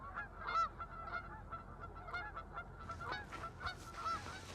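A flock of greater white-fronted geese on a pond, repeated honking and yelping calls from several birds at moderate distance, rising and falling over soft ambient noise.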